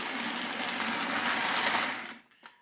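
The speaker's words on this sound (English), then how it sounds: "This engine just runs extremely smooth, and it's definitely broken in." Postwar 1950 Lionel 681 turbine model train locomotive running, a steady, smooth mechanical whir and rumble held close, then trailing off with a small click near the end.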